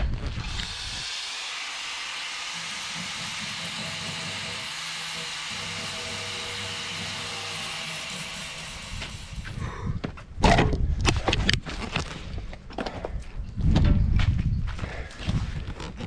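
An angle grinder dresses and cleans a weld on a steel frame for solar panels. A steady high hiss runs for several seconds, then gives way to harsh, irregular scraping and clattering bursts, close and loud.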